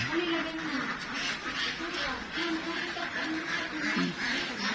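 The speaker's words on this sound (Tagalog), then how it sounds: "May mga itik din pala dito." Ducks quacking repeatedly on a rural countryside farm, a steady close chorus of overlapping nasal quacks with continuous outdoor background.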